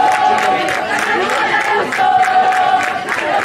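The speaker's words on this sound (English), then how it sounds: "As you can hear the Graydon fans in the back cheering on their boys." Graydon supporters in the stands at a boys' football final, a continuous crowd roar with rhythmic chanting pulses, heard from a distance behind the field.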